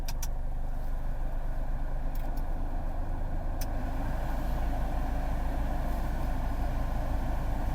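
A Toyota Innova idles with its air conditioning switched on, a steady low engine hum with a faint whirring layer running evenly throughout, close by and with no talk.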